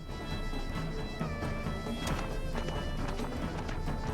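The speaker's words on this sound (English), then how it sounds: "the horse run" Hooves of a horse galloping in the video game Wartales, a quick run of thudding clip-clop beats under a dense layer of game music and ambience.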